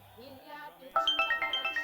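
A mobile phone ringtone in a Malayalam film scene chimes in a steady repeating pattern of bright tones, loud and close, cutting in after some brief talk.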